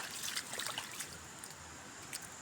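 Floodwater rushes across a farm as a steady, close, hissing trickle and flow of water with brief splashy bursts, and no voices over it.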